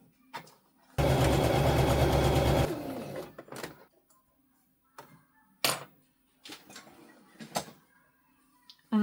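A sewing machine stitching a quarter-inch quilt seam runs in one loud, close burst of rapid whirring for under two seconds, then stops, leaving scattered soft clicks and fabric handling in a quiet room.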